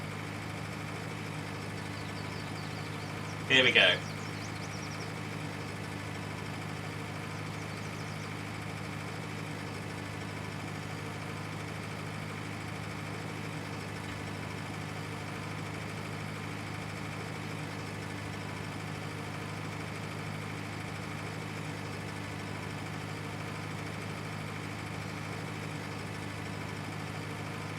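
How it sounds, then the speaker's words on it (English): A tractor engine in Farming Simulator 19 labours steadily under load with a constant droning hum and no change in pitch, while a brief spoken phrase cuts in near the start. "think we may have a slightly underpowered tractor for this"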